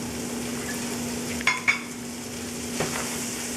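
Fusilli caserecci pasta boils in a pot of water on a lowered flame, giving a steady close bubbling hiss with a couple of light clinks partway through.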